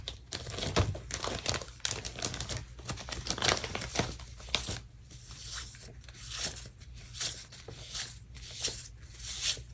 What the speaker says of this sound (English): I needed to go to the post office this day, so I'm going to grab a sticker for that.